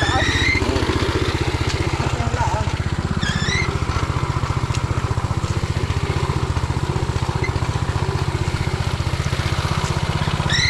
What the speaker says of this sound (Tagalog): Narin na po yung motor sa ating palayan.